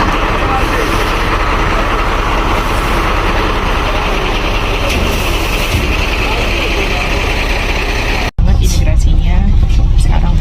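Inside a bus after an immigration stop at the Uganda–Rwanda border, a loud steady engine rumble and cabin drone, then a sudden cut to a busier interior with louder rumble and knocks.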